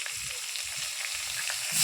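Green chilies fry in hot mustard oil, a continuous close sizzle and crackle with no voices.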